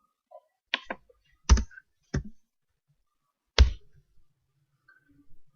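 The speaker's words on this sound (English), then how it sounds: "I click outside and then I click here bold" A computer mouse clicks while working in FreeMind mind-mapping software: a handful of sharp, close clicks spaced irregularly over a few seconds, with quiet gaps between and no talking.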